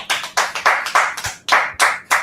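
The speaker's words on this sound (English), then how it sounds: "So we'll finish this off and clap it up." A classroom group claps together in a handful of distinct, evenly paced bursts, each one a sharp crisp volley of many hands that fades quickly before the next, loud and close with no talking.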